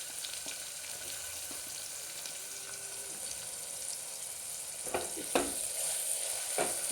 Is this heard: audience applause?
no